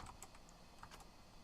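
Someone types on a computer keyboard, a quiet run of irregular key clicks at close range with no talking.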